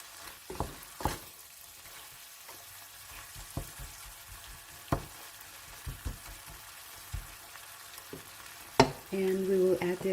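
A tuna and miswa noodle mixture being stirred in a pan: a soft, steady sizzle with scattered scraping taps of the utensil, then a louder clatter near the end.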